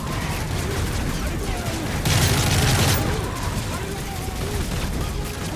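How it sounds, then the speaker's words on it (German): In the video game Modern Warfare 3, a rapid burst of gunfire lasting about a second rises over dense, continuous battle noise. "Alter, ich werde auch mal angeschossen."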